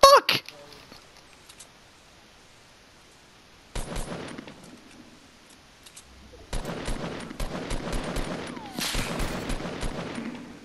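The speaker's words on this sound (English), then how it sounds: "I'm getting shot from the left as well." Bursts of rapid gunfire in the video game Fortnite crackle in clusters, a short volley early, then denser sustained firing in the second half, fairly close and loud, with a voice talking over the action.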